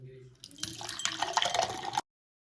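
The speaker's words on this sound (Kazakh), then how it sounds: "Ыдысым тар болғандықтан кішкене бір пиаладан құйып алдым." Kiwi lime lemonade made with Saryagash mineral water is poured from a small bowl, a brief splashing stream that builds then stops abruptly, following a faint voice at the start.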